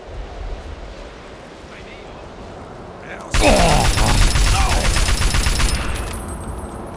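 Automatic weapon fire in the video game Fallout 3, a sudden loud sustained burst of rapid shots that cuts in partway through, preceded by quieter game ambience.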